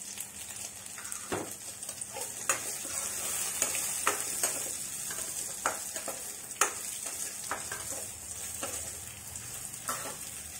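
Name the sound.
frying dry red chilies in oil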